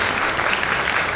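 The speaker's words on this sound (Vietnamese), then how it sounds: "Chúng ta cho một tràng vỗ tay để cảm ơn nhau." A church congregation at an All Souls' Day mass claps together in a short, dense burst of applause.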